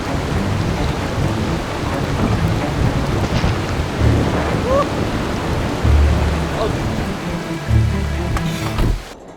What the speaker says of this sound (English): now it is just straight up storming